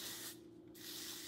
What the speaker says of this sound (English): I'm just gonna lightly spritz